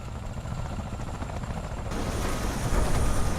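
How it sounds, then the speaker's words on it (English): A helicopter decorated with 60s graffiti flies and lands in a video game, a continuous rotor thrum and engine rumble that grows slightly louder and heavier toward the end. "with our hippie copter with all that 60s graffiti"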